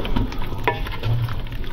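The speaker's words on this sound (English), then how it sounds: "Let's give it a stir around." Beef stew with mushrooms is stirred in a pot, giving a brief, soft scrape and a gentle wet bubbling sizzle over a low background hum.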